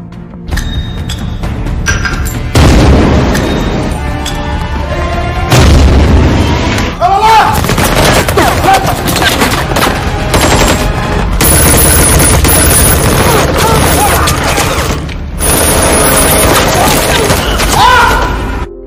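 Action film battle with loud bursts of gunfire and heavy explosions, rapid volleys and booming blasts one after another over a dense score, with voices in between.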